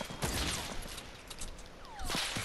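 Rapid gunfire bursts ring out in the Fortnite Battle Royale video game, with bright crackling shots and whizzing sweeps rising and falling over a dense, loud game soundscape.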